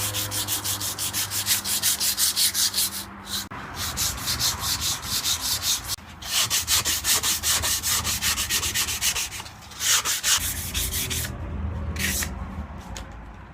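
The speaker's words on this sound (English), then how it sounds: "I'm gonna sand everything with 80 grit, 120 grit," Wood being hand-sanded with 80, 120 and 220 grit sandpaper while building a dovetail tool box: steady, close back-and-forth rasping strokes in long runs with brief pauses between passes, loud and alone.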